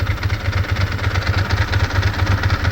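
A 2002 Ducati ST4s motorcycle engine idling around 1,000 RPM with a faulty, stuck clutch, giving a loud, steady, throbbing low rumble with a rattling, clattering undertone, close by and without talk.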